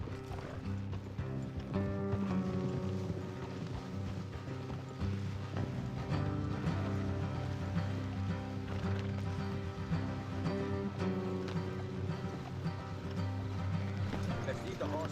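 Hoofbeats of horses galloping in the Western video game Red Dead Redemption 2, a steady clip-clop rhythm running throughout beneath a dense game score, with a brief whinny and a voice talking over the gallop.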